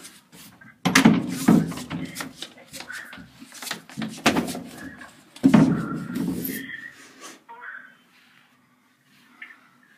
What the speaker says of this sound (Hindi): दरवाजा नहीं खुल रहा।